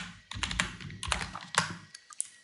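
Several computer keyboard keys are tapped in quick, uneven succession, crisp close clicks with short gaps and no talking.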